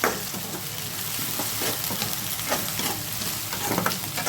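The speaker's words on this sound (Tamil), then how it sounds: "கொஞ்சமாக இஞ்சி பூண்டு பேஸ்ட்டு போட்டு பச்சை வாசனை போகிற வரைக்கும் நல்லா வதக்கிக்கலாம்" Onions with ginger garlic paste sautéing in a pan, a steady dense sizzle with intermittent stirring scrapes, close and continuous.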